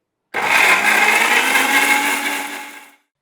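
A blender purees tomatoes without water, whirring loudly and steadily for a few seconds, a dense grinding hum that winds down slightly at the end before cutting off.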